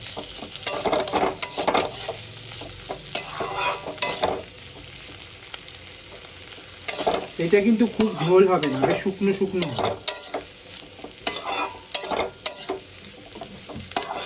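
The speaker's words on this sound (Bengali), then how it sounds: "মশলাটা দিয়ে আমার ভালো করে ভাজা হয়ে গেছে।" Spices with coriander powder and chilli powder frying in a pan, sizzling in bursts with spoon stirring and scraping; someone talks briefly over the cooking.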